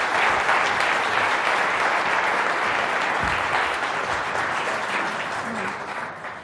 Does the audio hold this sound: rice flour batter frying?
no